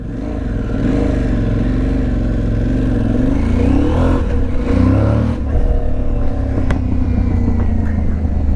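A 2025 Aprilia Tuareg Rally motorcycle engine accelerating on the road, loud and close, with a rising, warbling rev that climbs through the gears amid rumble and wind, then settles into a steadier drone.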